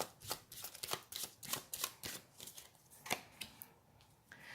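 Tarot cards shuffled by hand, a quiet close run of quick riffling flicks and soft slaps in an irregular rhythm, with no talking.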